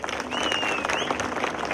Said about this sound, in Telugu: ఆ అమ్మాయికి దయచేసి చప్పట్లు కొట్టండి